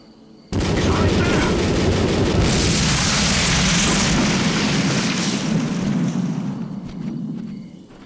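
A blockade blowing up in the video game Rage, an abrupt loud blast that bursts in and rolls on as a dense, crackling rumble of debris before fading slightly near the end.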